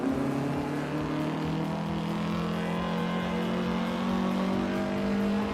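A vintage 1961 MG race car engine in a racing video game drones at a steady, close pitch, holding an even tone throughout with no pauses.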